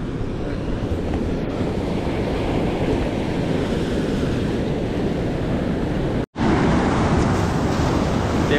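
Ocean surf breaks on a beach on a gloomy morning, a constant loud roar of waves mixed with wind buffeting the microphone, cutting out abruptly for an instant before resuming.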